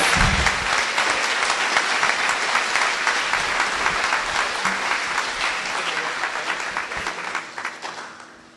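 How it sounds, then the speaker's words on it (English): A school graduation audience gives a sustained, dense round of applause that holds strong for several seconds and then gradually fades out toward the end. "Let's give all these brave, creative people a round of applause"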